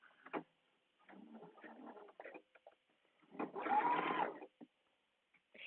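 Short, quiet bursts from a sewing machine stitching closed a folded fabric edge, with pauses between runs and one longer stretch of stitching near the end.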